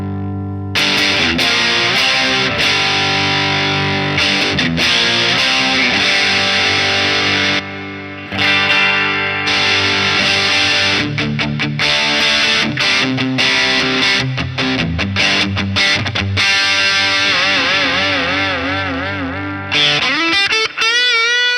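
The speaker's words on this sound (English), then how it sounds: "I'll bring the distortion down a little bit." An electric guitar played through a distortion pedal with the gain eased down a little gives loud, gritty chords and riffs with short pauses, and a wobbling, modulated tail near the end.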